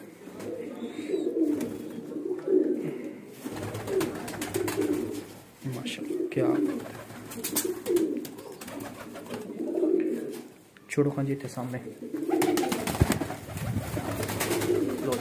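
Teddy breeder pigeons, a pair in a loft, coo in repeated rolling phrases at a moderate distance, recurring every second or two, while someone speaks briefly and other rustling and knocks occur.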